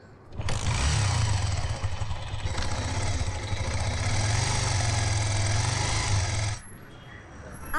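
A motorcycle engine runs steadily up close for about six seconds, a strong low rumbling drone with broad road noise, then drops off abruptly near the end.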